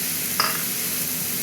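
Faint sizzle of pointed gourd and potato frying in spices in a pan, a brief stir scrape near the start over a steady low hiss, no voices.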